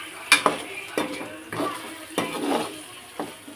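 A spoon scrapes and stirs mutton liver curry masala frying in oil in a pan, with repeated strokes about once a second over a soft sizzle, close and without talk.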